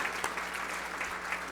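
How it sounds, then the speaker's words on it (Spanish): A crowd applauds steadily at the 6th ANDI passenger transport congress in 2015, dense clapping filling the hall with an even, sustained roar and no voices above it. "vamos a darle un aplauso importante a ustedes"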